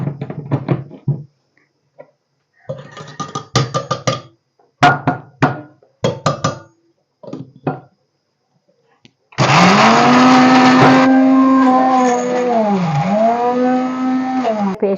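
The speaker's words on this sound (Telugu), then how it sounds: "వెల్లుల్లిపాయ, జీలకర్ర, ఉల్లిపాయ ముక్కలు వేసి మిక్సీ పట్టాలి." After some scattered knocks and kitchen clatter, an electric mixer grinder kicks in loudly, grinding garlic, cumin and onion pieces into masala paste with a steady high whine whose pitch dips and recovers as the load shifts.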